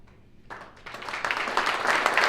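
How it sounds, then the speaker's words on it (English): Audience applause at a Minnesota PGA awards ceremony for the 2022 Golf Professional of the Year, beginning after a quiet moment and quickly swelling into steady, building clapping from a crowd. "how about a big round of applause for Steve Fessler, our 2022 Golf Professional of the Year"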